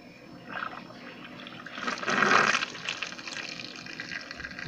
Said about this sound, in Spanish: Mire, ya cayó la agüita ahí.